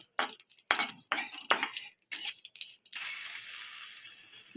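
Fried curry leaves and leftover oil are stirred into masoor dal in a kadai, a run of scraping spoon strokes in uneven bursts, close and fairly quiet, ending in a softer continuous swirl without talk.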